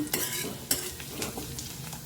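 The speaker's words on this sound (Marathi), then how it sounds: "कांदा आपला छान भाजला आहे" Chopped onion frying in a pan as a spoon stirs it, soft sizzling broken by several sharp scraping clinks against the metal, close and without talk.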